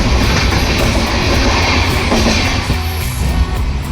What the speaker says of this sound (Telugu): చల్లపల్లిలో ఇంకొక ట్రైన్ మనల్ని ఓవర్టేక్ చేసి వెళ్తుంది